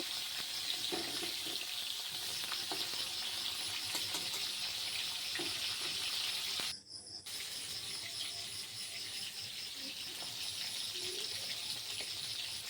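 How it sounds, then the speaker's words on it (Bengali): Fish frying in a pan in a home kitchen, heard as a steady broadband sizzle that holds throughout with a brief drop near the middle. No voices are heard. "তো মাছ ভাজা প্রায় হয়েই গেছে আমার"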